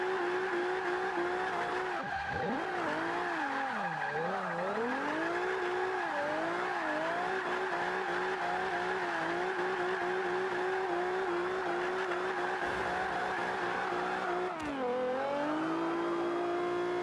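A Toyota Celica with front-wheel drive drifts in Forza 5, its engine note steady and loud as tires squeal in long, wavering bursts, dipping and rising through the turns with no talk over it.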